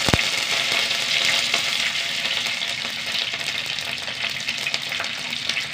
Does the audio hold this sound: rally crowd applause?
no